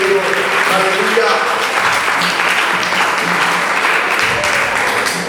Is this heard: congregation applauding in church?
yes